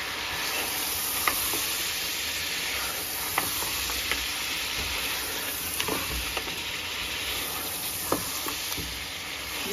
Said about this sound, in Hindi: चिकन को पुलाव के लिए हम चिकन को फ्राई कर रहे हैं।